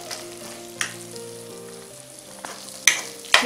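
Pav bhaji masala fries and is stirred in a pan, a soft sizzle with a few sharp clicks near the end over steady tonal hum.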